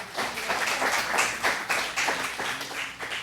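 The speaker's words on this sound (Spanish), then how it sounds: "Un aplauso para la hermana." A church congregation applauding during a sermon, brisk rhythmic clapping from a group in a reverberant room, steady for a few seconds.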